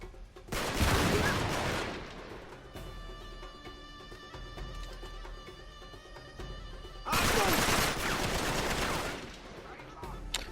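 Two bursts of heavy sawed-off shotgun fire in the Uncharted 3 video game, each loud blast trailing into a sustained rumble, with a quieter stretch of game sound between them.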